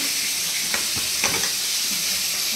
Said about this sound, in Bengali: আমি এটা চিংড়ি মাছ ভাজতে দিয়ে দিয়েছি ও অলিভ অয়েলে।